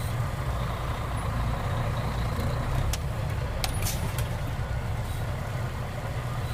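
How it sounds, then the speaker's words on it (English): A truck tractor's large engine rumbling low and steady as it creeps forward about 5 to 10 feet at roughly 5 mph, with a few sharp metallic clicks and squeaks partway through. "I'm gonna pull forward 5 to 10 feet at approximately 5 miles an hour"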